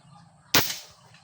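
A PCP air rifle, a Predator Indo model converted from .177 to .22, fires a single sharp crack that rings briefly and fades.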